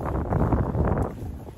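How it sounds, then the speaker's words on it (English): Brief, loud wind rumble on the top of Caer Caradoc hill batters the microphone in heavy low gusts, steady throughout with no talking. "Very windy up there."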